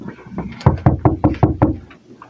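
Someone knocks on a door six times in an even, fairly quick series, close and loud, with some faint room noise before the first knock.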